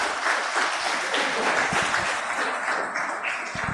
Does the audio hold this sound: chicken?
no